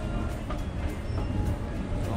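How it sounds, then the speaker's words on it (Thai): Train running on a rail line around the outside of Taoyuan International Airport; a steady rumbling roll with faint rhythmic clicks, heard at moderate distance under ambient noise. "ตรงนั้นจะเป็นรถไฟนะครับที่วิ่งรอบๆสนามบินนะครับ"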